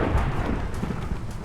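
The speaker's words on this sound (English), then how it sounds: "thunderstorming even" A thunderstorm rumbles in Minecraft with the Create mod, low rolling thunder over a steady hiss of rain, fairly loud and continuous with no speech.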